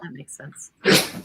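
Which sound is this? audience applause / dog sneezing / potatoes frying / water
dog sneezing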